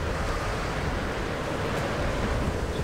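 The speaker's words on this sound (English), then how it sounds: "It's very windy." Wind in the Tomb Raider video game, a steady broadband rushing roar with no gaps, fairly loud and continuous throughout, no talking.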